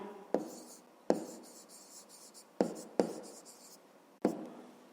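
Pen or marker strokes while a math equation is written out for a fifth-grade exercise, five sharp taps spaced irregularly, each with a brief scratchy trail, close and fairly quiet with no talk.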